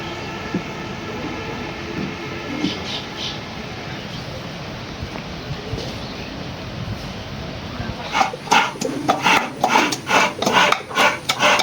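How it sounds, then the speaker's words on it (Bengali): Garlic is crushed and coconut grated by hand in a home kitchen, a soft scraping and rubbing texture followed by a loud run of rhythmic, rasping strokes near the end. "ডাল বাগার দেওয়ার জন্য রসুন ছেঁচে নিতেছি আর নারিকেল কুড়াইতেছে"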